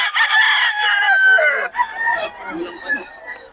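A Golden Boy sweater gamefowl rooster crows once, loud and close, a strained drawn-out call followed by softer clucking and murmuring noises.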